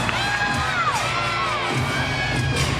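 A large indoor crowd at a college gymnastics meet cheers and shouts continuously, with high whoops and whistles rising above the roar.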